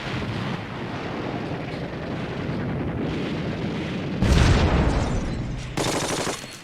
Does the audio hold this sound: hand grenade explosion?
yes